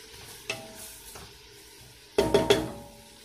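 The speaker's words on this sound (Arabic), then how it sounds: "هادي يقلي البصل" Onions frying in a pan give a faint sizzle, broken by a few sharp stirring scrapes, one early and a quick cluster of three near the end.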